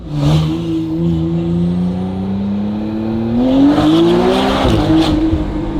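A McLaren Artura with a Valvetronic Designs free flow race exhaust roars as it accelerates, engine pitch climbing steadily through the gears with a loud, raspy growl and no talking.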